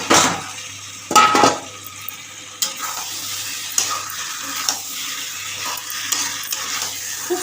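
Potatoes dropped into a pan of spiced masala for a Bengali shahi aloor dum, a clattering burst of sizzle and stirring near the start, then steady frying with spoon scrapes and small knocks throughout.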